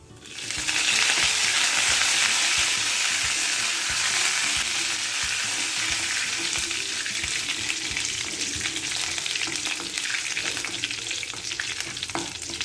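Ingredients frying in a pan over a low simmer until reddish, with a loud, continuous close sizzle and frequent stirring scrapes throughout.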